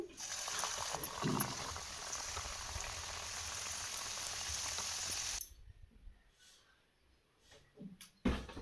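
Crisp snacks of wheat flour and maida dough deep frying in hot oil at medium heat, a steady loud bubbling sizzle that cuts off abruptly, leaving a quiet kitchen with a few faint clicks and a brief clatter.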